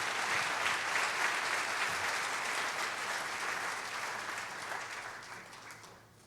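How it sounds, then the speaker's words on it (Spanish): Church congregation applause at a worship service, a dense, steady wash of clapping from a crowd that gradually fades out over several seconds. "Dele más fuerte el aplauso al Señor"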